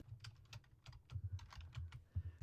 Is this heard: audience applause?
no